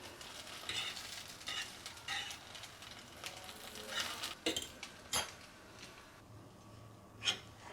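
Buttered bread slices fry and get turned in a pan for shahi tukda, giving a soft, steady sizzle with scattered clinks and scrapes of utensil against pan, fairly quiet and with no talking.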